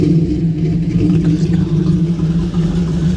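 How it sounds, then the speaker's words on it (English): The 5-speed 1991 Camaro Z28's V8 rumbles steadily up close, a loud, even, low throb that holds without a clear rise in pitch. "Hey Benny, rev the engine for me."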